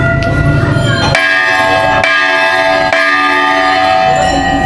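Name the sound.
many temple bells ringing at Golu Devta temple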